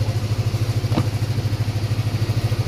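A Yamaha Aerox 155 scooter engine idles steadily up close, a low, even pulsing throb with a regular beat throughout, plus a single brief click near the middle; no one speaks.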